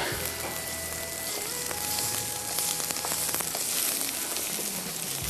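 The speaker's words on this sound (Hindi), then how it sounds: "हम इसमें एक खाने का चम्मच सबसे पहले अदरक लहसुन शामिल करेंगे और इसको करेंगे फ्राई" Ginger and garlic frying in a hot pan make a dense, steady crackling sizzle that runs unbroken throughout, with faint tonal background sounds mixed in.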